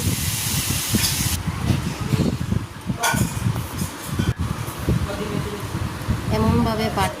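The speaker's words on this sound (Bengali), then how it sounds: "আমি এখন শিলপাটায় বাটব।" Fried pointed gourd peels being ground by hand on a shil-pata grinding stone, giving loud, close, rhythmic rasping scrapes that come in repeated strokes with brief pauses.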